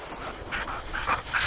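Dogs pant and scuffle in play on a beach, quick breathy panting bursts close by with a faint whimper, no talk.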